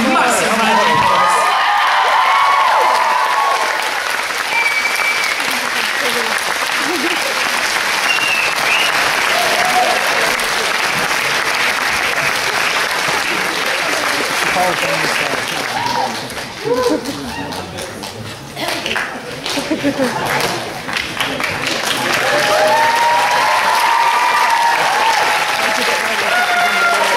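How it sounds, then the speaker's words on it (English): A crowd at a cosplay masquerade at Manchester Comic Con applauds loudly and steadily, with cheers and whoops rising over the dense clapping, which dips briefly and then surges again. "Massive round of applause"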